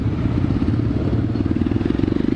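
Motorcycles at a riders' meetup in João Pessoa, Paraíba, rumble steadily up close, a low, pulsing engine throb running without a break.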